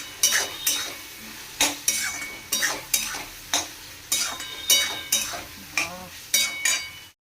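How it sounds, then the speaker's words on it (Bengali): Fish roe sautéed in a pan gives a steady sizzle broken by regular scraping strokes of a spatula against the pan, about one stroke every half second, close and fairly loud with no talk. "এই মাছের ডিমটা এবার এর মধ্যে দিয়ে দেব দিয়ে এবার এটাকে ভালো মতো কষাতে থাকবে"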